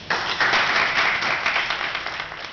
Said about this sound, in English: let's give him another applause.